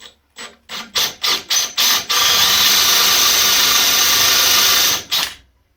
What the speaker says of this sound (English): We're going to drill these four first, we'll bolt that in, and then we'll drill the last two.